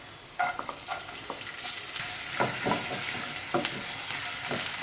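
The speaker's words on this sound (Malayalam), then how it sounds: "ചെറുതായിട്ടൊന്ന് വഴറ്റി കൊടുക്കാം" Chopped carrots stir-fried over a high flame in a pan for chicken fried rice, with a steady sizzle and repeated scraping strokes of a spatula, close and alone.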